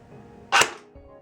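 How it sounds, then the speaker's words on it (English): A single sharp airsoft shot from an Echo 1 Romanian AK47, run on a 9.6 volt battery with 0.2 gram BBs, fired through a chronograph: one loud close crack with a short tail, set between quiet moments. "now we're going to chronograph the Echo One Romanian AK47"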